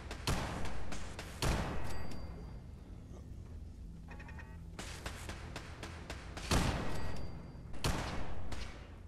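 Automated turrets fire on the player in Fallout 4's Nuka-World, with scattered loud sharp bursts and single shots separated by quieter gaps, plus occasional mechanical clicks.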